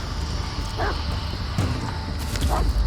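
In the horror video game Blair Witch, a dog barks a few times in a dark forest, each bark short and somewhat distant against a dense, murmuring ambient background.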